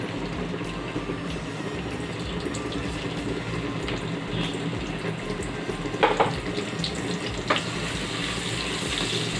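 Chopped onions dropped into hot oil for a chicken curry give a steady, even sizzle that holds for several seconds, with a couple of brief louder crackles and no talking.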